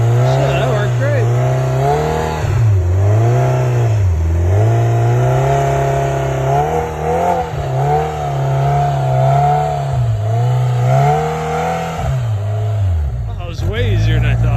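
Pro R off-road truck stuck in deep blizzard snow, its engine revving hard and loud in rising and falling surges while it is winched out, close up, with voices talking over it.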